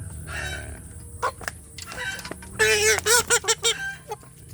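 Free-range village chickens cluck nearby in a quick run of squawky calls, loudest toward the end, over low farmyard background noise.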